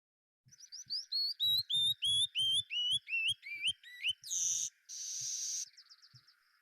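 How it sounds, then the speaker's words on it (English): A male canyon wren sings its song alone: a descending cascade of clear, sweet whistled notes, about a dozen repeated rapidly, ending in a few harsher buzzy bursts and a soft trailing note, bright and close. "So you might hear the canyon wren sound like this."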